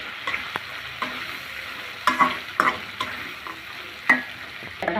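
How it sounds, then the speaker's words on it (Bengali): Washed broad beans get stirred into fried spice paste in a pan, a soft sizzle running under scattered scraping strokes and sharp clicks of the spoon against the metal. "এখন দিয়ে দিব ধুয়ে রাখা সিম বিচিগুলো, ভালো করে মশলার সাথে মিশিয়ে নেব।"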